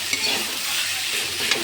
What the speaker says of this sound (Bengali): ভালো করে এটা আবার একটু নেড়ে ফেলে দিচ্ছি।